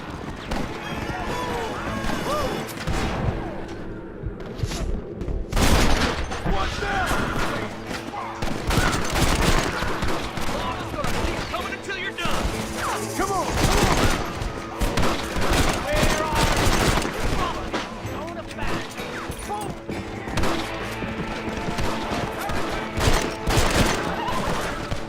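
Rapid bursts of gunfire crackle continuously amid galloping hooves and game clamor in Red Dead Redemption, with a person talking over the chaos throughout.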